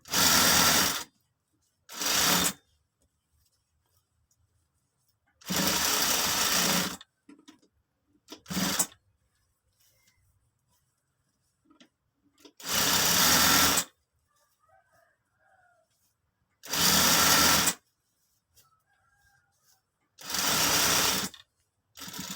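A sewing machine stitches elastic into a trouser waistband in loud, close bursts of rapid whirring, each lasting a second or two and separated by quiet pauses.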